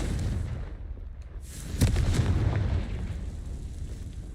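A Confringo fire spell going off in Hogwarts Legacy, a deep, rumbling blast with a sharp burst near the middle that fades into a lingering roar.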